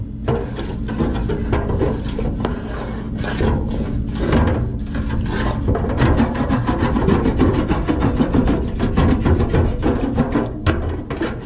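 A wooden spoon scrapes browned bits across the bottom of a pan while making Thanksgiving turkey gravy, giving steady rasping strokes over a sizzling, bubbling base, close and continuous with no talk.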